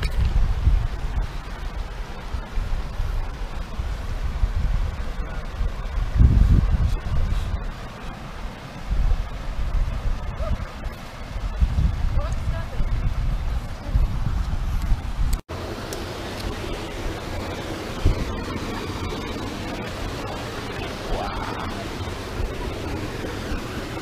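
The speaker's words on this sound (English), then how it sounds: "look at that waterfall." Steady roaring rush of falling water fills the scene, broad and continuous, with a brief drop partway through before the roar carries on.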